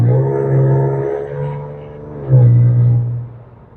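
An Audi S4 exhaust with the center resonator deleted, an aftermarket performance box and new downpipes gives a loud, deep droning tone close by, swelling, easing off, then rising sharply again before fading.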